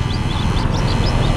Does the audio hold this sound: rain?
no